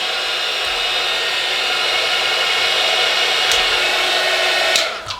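Steady loud blowing of a heat gun's hot air over an adhesive label, constant throughout, with a couple of faint clicks near the end as it cuts off.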